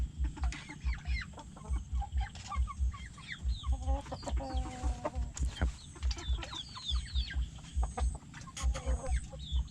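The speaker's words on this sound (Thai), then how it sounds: "ไก่ไข่ครับ" Laying hens cluck and murmur continuously in a busy chorus in a pen over water, close and moderately loud, with a steady rhythmic mechanical thumping underneath.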